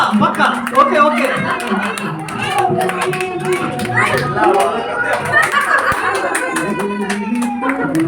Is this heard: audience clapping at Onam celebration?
yes